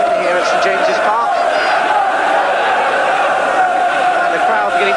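Football crowd at St James's Park, Newcastle, during a 1982 match against QPR, a steady loud roar of many voices with rising chants and shouts sustained throughout.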